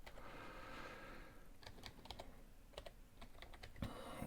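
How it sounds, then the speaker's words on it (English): Password keys tapped on a DENSO WAVE BHT handheld keypad, a string of light, close, evenly spaced clicks over a steady low background hum. "I can type in the password"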